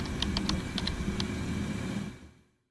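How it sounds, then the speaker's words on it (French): Someone types on a computer keyboard during Roblox play, quick faint key clicks over a steady low background hum that fades out near the end. "maintenant, on peut entendre Aftoni taper sur son clavier comparé à avant"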